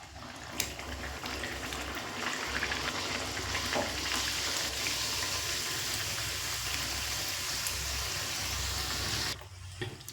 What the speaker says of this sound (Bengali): দেখুন পাপড়িগুলো এরকম লাল লালভাবে ভেজে নিচ্ছে।